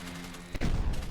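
A short burst of gunfire from defensive turrets in the video game Decimation, a dense booming crack, comes in at mid-clip over a steady background hum, fairly loud and close.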